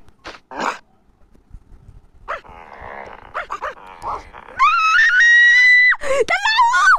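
Dog in a Toca Boca video game giving several sharp barks and yelps early on, followed by a loud, long high-pitched whining cry, close and clear amid brief bits of other sound.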